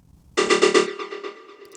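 A spectral resonator effect tuned to D rings out in a short burst of bright harmonic tones after a brief silence, then decays with a few soft pulsing repeats.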